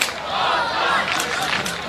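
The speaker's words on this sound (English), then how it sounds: "Great crowd, plenty of atmosphere." A large crowd at an Australian football match at Norwood roars and shouts continuously, a dense, loud wash of voices with rising yells, steady throughout the short stretch.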